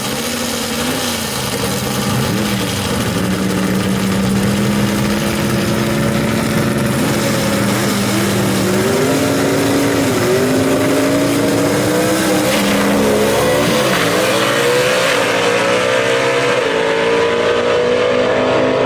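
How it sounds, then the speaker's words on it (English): Drag race cars launch at Mooresville Dragway, including a 1966 Chevy II gasser, engines roaring loud and continuous as they rev and climb in pitch through repeated gear changes, with no talk over the noise. "He's going to race none other than Jimmy Martin in the ditch digger out of Social Circle, Georgia."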